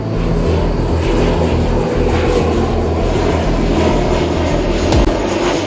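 Aircraft engines drone loud and steady from inside a passenger airplane in 1999, a constant heavy rumble and hum with no speech.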